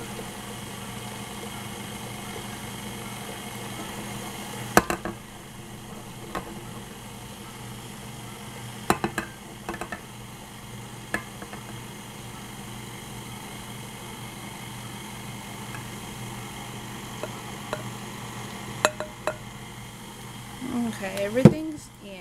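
Banana Nutella muffin batter being mixed: a steady motor-like whir runs throughout, with occasional sharp clicks and knocks. A person talks over it.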